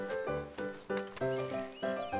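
A horse in a video game whinnies and snorts in repeated tonal bursts after collapsing on its rider, the calls loud and close, overlapping one another across the clip.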